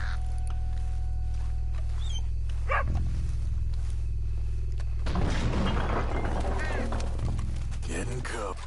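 Dogs bark in a video game scene, sharp yelps and barks breaking out in bursts over a constant low hum, with game voices and clattering action in the second half.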